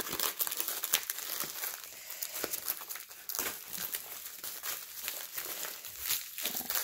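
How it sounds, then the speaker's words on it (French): A small paper envelope is handled and opened during an unboxing of diamond painting supplies, giving continuous close crinkling and rustling with brief crisp tearing sounds, fairly quiet and without talking. "Ensuite, nous avons cette petite enveloppe qui contient je ne sais pas."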